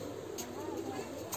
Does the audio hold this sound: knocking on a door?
no